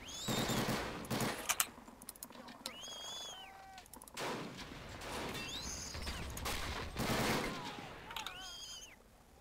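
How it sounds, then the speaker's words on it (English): Machine gun fire in a World War II-style war video game set in the 1946 invasion of Japan: repeated bursts of rapid gunfire with sharp rising whistles and mechanical clanks between them, loud and near. "I got a machine gun over here, pinning us down on the left side."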